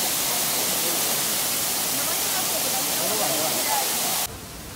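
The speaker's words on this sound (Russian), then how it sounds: "Все, короче, пришли в Ниццу на водопад." Dense, steady rushing of a waterfall in Nice fills the whole stretch at constant loudness, dropping slightly at the very end.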